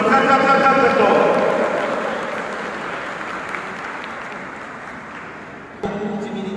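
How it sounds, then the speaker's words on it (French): Sustained applause from the audience at a law faculty graduation ceremony, loud and dense at first, then slowly fading before a brief late swell. "On applaudit très fort."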